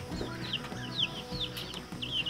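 Young chickens in a chicken tractor on a homestead give soft, repeated high clucks and chirps in short bursts over faint background noise, with no talking.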